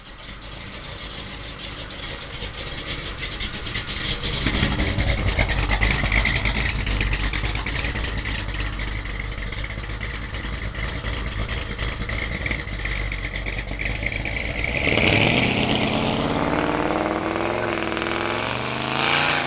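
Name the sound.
1970 Chevrolet Chevelle with 572 engine running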